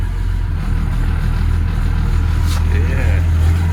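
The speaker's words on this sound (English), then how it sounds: "Here's the first cold start of the trip." A vintage overland truck idles after a cold start on a winter morning, its idle raised. The engine hums low and steady, close by, with voices nearby.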